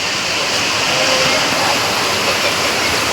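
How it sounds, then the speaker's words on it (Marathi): Heavy rain pours outside in a steady, dense hiss that stays constant and fairly loud throughout, with no breaks. "पाऊस चालू आहे"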